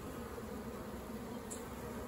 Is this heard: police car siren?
no